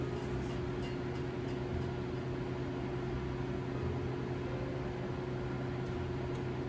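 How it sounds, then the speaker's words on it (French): A microwave oven runs while melting chocolate chips, a steady, even mechanical hum with low droning tones that holds at a constant level throughout. "On peut arrêter le micro-ondes, à peu près 4 minutes."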